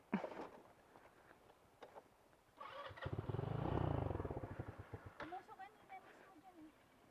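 A motorcycle engine revs up briefly with a throaty exhaust rumble, fairly faint, while people talk nearby, on a steep road at Hundred Steps, Sipocot, Camarines Sur.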